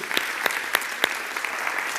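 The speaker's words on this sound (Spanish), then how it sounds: "Dale otro aplauso a Él" Sunday church congregation applauding during a service: a few sharp, evenly spaced claps stand out over a bed of lighter clapping from the crowd, close and moderately loud.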